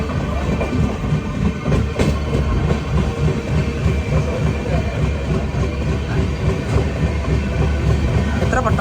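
Hampi Express train picking up speed, heard from inside a coach: steady rhythmic clickety-clack of wheels over rail joints with a continuous low rumble, loud and close throughout.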